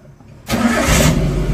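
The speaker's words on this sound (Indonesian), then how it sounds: "kita nyalakan ya mesinnya" Suzuki Carry 1.5 pickup from 2012 cranks and catches at once, the engine starter giving way to a loud, steady running engine close by, with no talk over it.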